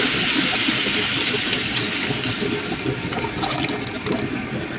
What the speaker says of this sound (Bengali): আমার কষানো হয়ে গেছে, এর মধ্যে আমি পানি দিয়ে দেবো।